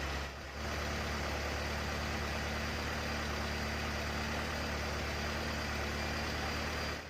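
A car engine idles steadily and close by, a continuous low rumble with a faint mechanical hum that holds even throughout, with no talking.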